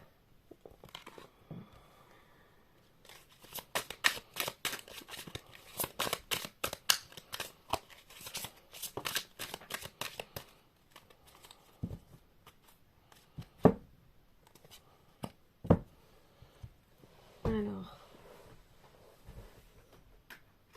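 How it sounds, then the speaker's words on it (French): Tarot cards are reshuffled by hand in rapid flurries of crisp riffling and tapping, close and quiet, with short pauses and a few sharper knocks toward the end. "je vais remélanger parce que là, il y a trop de cartes"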